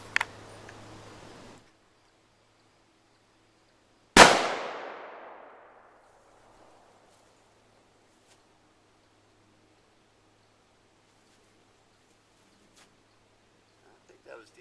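A single Browning A-Bolt .308 rifle shot with Hornady 150 grain match ammunition: a sharp, loud report midway that rings out and decays over about two seconds, after brief noise at the start and near-silence following.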